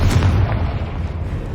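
A Confringo fire spell exploding in the Hogwarts Legacy video game, a single deep boom with a rumbling tail, loud and close, with no talk.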